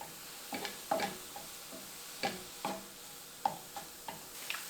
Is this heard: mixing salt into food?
yes